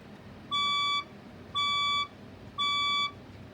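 A fire alarm sounds three evenly spaced electronic beeps, each about half a second long, loud and clear with a steady pitch, between building evacuation announcements.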